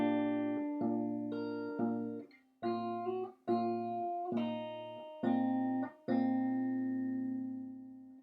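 Fingerstyle acoustic guitar plays a riff, a run of about nine plucked, sustained chords with clear pauses between them. The playing is close and steady, with palm-muted bass strings and no talking.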